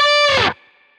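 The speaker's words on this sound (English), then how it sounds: "the overdrive distortion pedal that I'm using for those bends" A single electric guitar note bent upward through an overdrive distortion pedal, loud, bright and buzzy, cutting off after half a second into a faint ringing tail.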